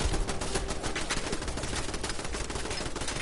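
An automated turret in a survival video game fires without pause, producing a loud, continuous rattle of rapid gunshots for a few seconds.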